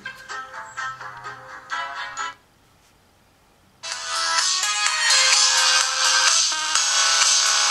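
Electronic melody ringtone playing from the rear loudspeaker of an Alcatel One Touch M'Pop phone, a tinny tune that stops after two seconds, then after a short pause a louder, brighter ringtone starts and continues.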